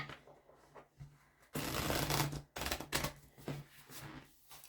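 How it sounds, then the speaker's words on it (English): A deck of tarot cards is shuffled by hand at close range: soft riffling bursts, with one long loud flutter in the middle and quieter shuffles before and after. "I'll use this time while I'm shuffling"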